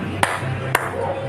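Two sharp hand claps about half a second apart, close and crisp, over a low background hum with faint voices.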